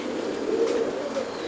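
Tiger Racer pigeons coo in a steady, continuous low murmur, with several birds overlapping at moderate loudness and no voices present.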